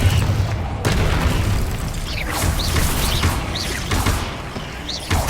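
Bombarda blasting spell bursting in the Hogwarts Legacy video game, a dense booming explosion amid a continuous rumbling battle din with whooshing spell effects layered over it.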